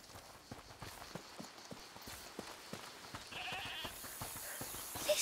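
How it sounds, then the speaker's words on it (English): Goat bleating in the video game A Plague Tale: Requiem, accompanied by repeated hoof-like clops and steps, with a louder bleat and rising noise near the end. "Is that the goat you talked about?"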